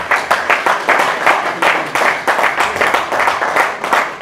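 An audience at an album release party applauds the musicians with loud, rhythmic clapping in even pulses.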